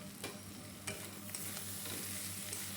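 Shredded chicken is stirred and mixed in a pan with a soft sizzle, with scraping strokes of the spoon at irregular intervals and a continuous frying hiss, close by.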